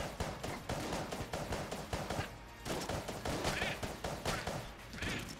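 Rapid bursts of gunfire from the Enter the Gungeon video game pour out against a jammed enemy, a dense, loud stream of overlapping shots with short pauses between volleys.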